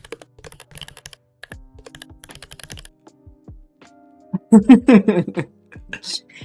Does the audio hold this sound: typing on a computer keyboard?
yes